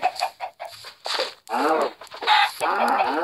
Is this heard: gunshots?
no